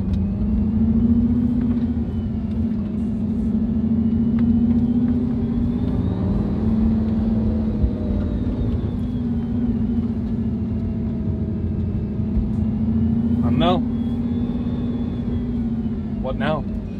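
A Bugatti converted to rear-wheel drive rumbles with a steady, loud engine drone on an empty car-show lot, its pitch wavering slightly throughout, with faint voices in the background.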